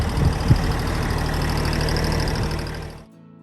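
Tractor engine idling during storm cleanup: steady, low rumbling idle with a faint rhythmic knock, close by, cutting off abruptly near the end.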